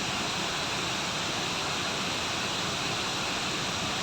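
A river flowing westward through a village makes a steady, broadband rushing wash that holds constant and unbroken, with no voices or other sounds over it.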